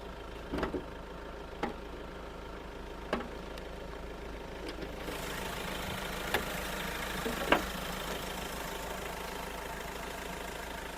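A 2019 Mahindra XUV500 W7 diesel engine idles with a steady low rumble, occasional soft clicks and knocks, the sound growing a bit fuller and closer midway.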